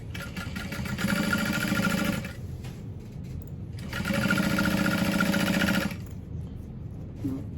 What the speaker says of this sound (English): I'm going to do that same 2 rows of stitching for security